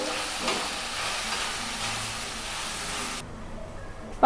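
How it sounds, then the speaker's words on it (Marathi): Cashews and green chilies roasting in a pan for restaurant-style kadai paneer, a continuous soft sizzle with light stirring that cuts off abruptly near the end. "काजू पण भाजून घ्यायचे आहे, मिरची पण भाजून घ्यायची आहे। आपण हे सर्व आता भाजून घेऊ।"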